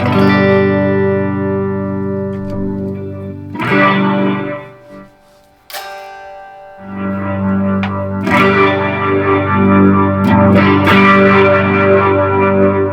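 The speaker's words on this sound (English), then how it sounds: "it adds a little bit of drive to the sound, like it's overdriven slightly" A sustained guitar tone swirls through a BOSS RT-2 Rotary Ensemble pedal on its slow setting with mild overdriven grit, loud and close, with a brief quieter dip midway.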